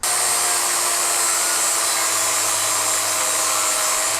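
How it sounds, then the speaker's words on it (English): Grinding down metal on an engine block next to the transmission during a 2GR engine swap into a Celica, a loud, continuous high-pitched whine of a power grinder running without pause. "I think we'll grind it down so we can make this transmission"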